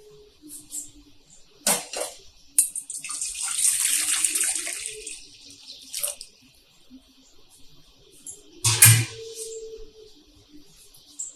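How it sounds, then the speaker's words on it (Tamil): About a litre of water splashes and pours from one pot into another in a few separate bursts, with quieter dripping and trickling between the louder pours. "கிட்டத்தட்ட ஒரு லிட்டர் தண்ணி அளவுக்கு நான் இதில் இந்த இன்னொரு பாத்திரத்தில் ஊற்றிட்டேன்"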